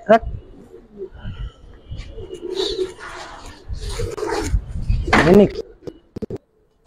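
Giribaz pigeons coo softly in a loft, low burbling calls coming in short bursts close by, with someone talking over them between the coos.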